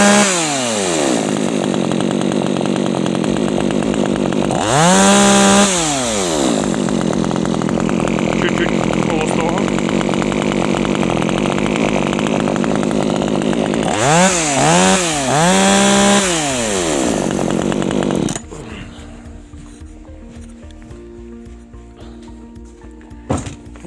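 A nearly new Vitals one-handed chainsaw runs after its carburetor was repaired, a loud, steady close-up engine drone with two rising-and-falling throttle revs, then it cuts off to near silence.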